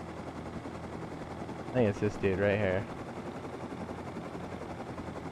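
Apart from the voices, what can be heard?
helicopter flying in the video game Rust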